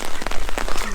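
Rain falling on a farm near the pig pen, a loud dense patter of drops striking surfaces close by, with a low rumble beneath.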